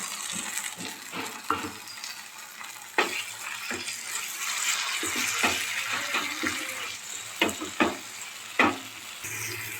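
Soaked mustard paste hits a pan of lightly fried coriander leaves for a small-fish curry, raising a steady close sizzle broken by sharp stirring scrapes and occasional clatters, with no talking.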